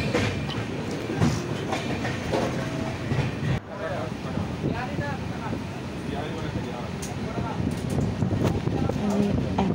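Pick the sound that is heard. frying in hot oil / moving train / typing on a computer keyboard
moving train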